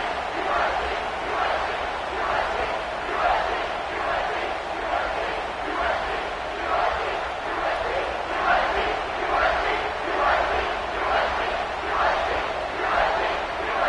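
A football stadium crowd in South Carolina chants and cheers in a loud, rhythmic, pulsing roar that keeps going the whole time, dense and continuous, with voices blending into the mass sound.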